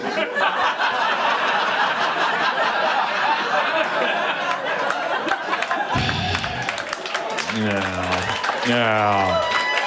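Comedy special audience applauding and laughing, dense continuous clapping with chuckles for about six seconds, then a voice speaks over the fading applause.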